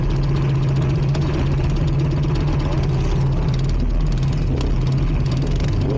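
A Sears dragster powered by a 440cc Duromax engine drones loudly and steadily throughout its second run, a constant low engine roar with no pauses or speech.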